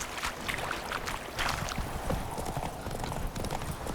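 Hooves of Roach, the horse in The Witcher 3, clip-clop in a steady trotting rhythm, close and moderately loud over a busy outdoor game soundscape.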